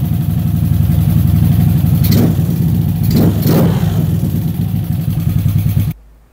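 Kawasaki Kaze R motorcycle engine fitted with a PWK 21 carburetor, running loud and close with a steady idle broken by two sharp throttle blips, then cutting off abruptly.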